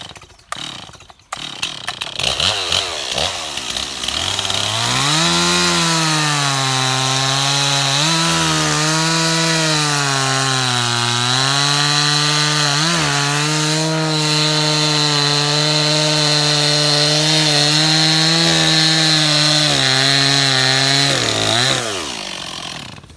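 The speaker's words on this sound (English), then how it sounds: "sorry about starting the chainsaw" A chainsaw starts with a few pulls, then roars steadily through a wood cut for about twenty seconds, its pitch dipping and rising under load, loud and close, before winding down.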